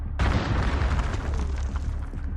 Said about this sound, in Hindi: एक जोरदार धमाका हुआ, जैसे बिजली गिर गई हो।